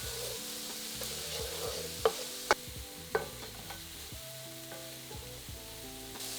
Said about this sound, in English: Add in 3 minced cloves of garlic and cook for a further minute while stirring